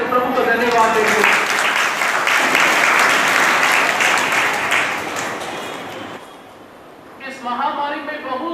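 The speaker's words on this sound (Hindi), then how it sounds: "इसलिए हम लोग जोरदार ताली बजाकर प्रभु को धन्यवाद देंगे।" A church congregation at a Grandparents and Parents Day celebration breaks into loud, dense applause that swells for several seconds, then fades as a voice begins speaking over the tail.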